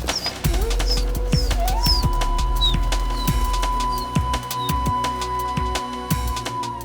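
Pigeons on a rooftop in Old Delhi, with close, steady cooing and soft calls over a constant low hum, plus a few sharp clicks and short bird chirps scattered through.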